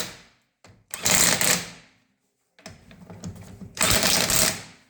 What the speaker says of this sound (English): I know this old snap-on gun isn't that strong, so it probably hasn't hit 120